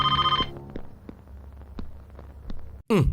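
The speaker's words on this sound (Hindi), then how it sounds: "आंटी, फोन की घंटी बज रही है" A telephone rings with a bright, repeated electronic bell tone, then falls quiet into low room noise before a sudden loud burst at the end.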